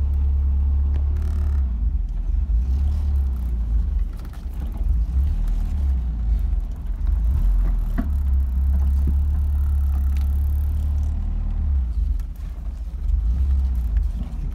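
A Mercedes 190SL driven from cold on a test drive, its engine a steady loud low rumble from inside the car, with small shifts in pitch as it pulls along at low speed.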